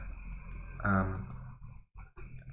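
A single press of the Enter key on a computer keyboard, a brief click heard under a person talking.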